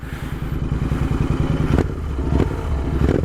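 Cafe racer motorcycle engine revving up close, a loud, full throaty roar that builds and pulses steadily throughout with no talking.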